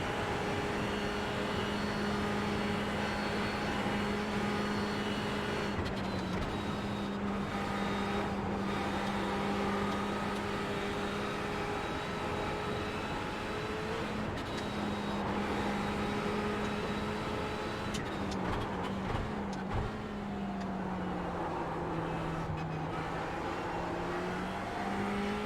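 Race car engine in the iRacing sim, a loud sustained drone that rises and falls in pitch through gear changes and revving across a long continuous stretch of driving.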